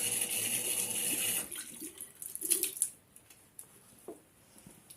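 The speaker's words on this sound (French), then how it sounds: "Et je rince." Running tap water splashes as a face is rinsed after a foaming cleanser, loud and steady for over a second, then broken splashes and drips that fade to quiet.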